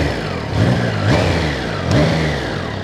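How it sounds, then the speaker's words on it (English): Standard exhaust of a Triumph Trident 660 motorcycle blips twice, rising and falling in two short throttle revs over a steady idle, heard close and alone. "So this is the standard exhaust."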